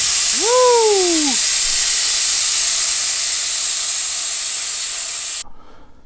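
Air hisses steadily out of a Triumph Explorer 1200 motorcycle tyre after the valve core is removed. The rush is loud, close and continuous for about five seconds before cutting off, with a short vocal whoop at the start.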